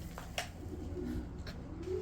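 Pigeons coo softly in low, repeated murmurs against a steady background, with a couple of faint higher chirps over about two seconds and no talking.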